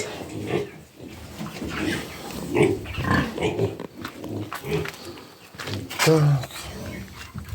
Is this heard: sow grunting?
yes